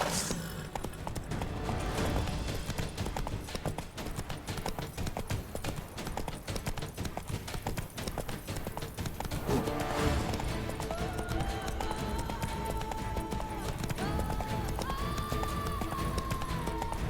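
Hooves of the horse Roach clip-clopping at a steady gallop in Witcher 3, continuous and fairly close, with game music and ambient sound underneath.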